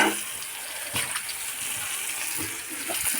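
Water poured into a pan of shing fish curry as it cooks, a steady close gushing and splashing that runs throughout, with faint clatter underneath.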